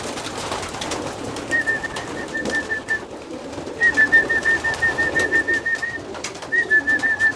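Pigeon cooing close by in repeated soft, throaty phrases, three bouts with short pauses between, over faint background noise.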